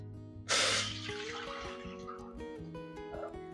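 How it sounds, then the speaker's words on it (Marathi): Water poured into a pot for kurdai wheat dough, a sudden rushing splash that starts abruptly, then fades and trails off into a quieter gurgle over a few seconds. "एवढा चीक घेतला तर आपण एवढंच पाणी टाकणार आहोत"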